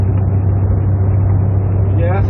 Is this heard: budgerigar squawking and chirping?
no